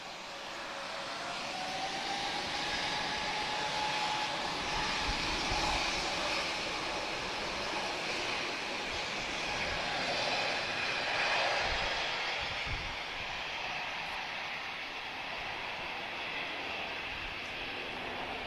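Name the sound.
Bombardier Global 6500 business jet flying by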